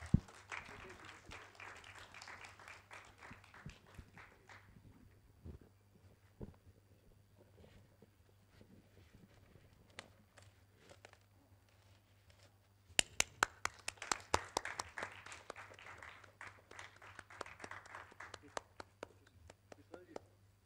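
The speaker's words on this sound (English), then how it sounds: "Can we please have a big round of applause?" Scattered applause at a film festival awards press conference, a few claps early on, then a quiet pause and a fresh burst of sharper clapping partway through, with talk and a steady hum underneath.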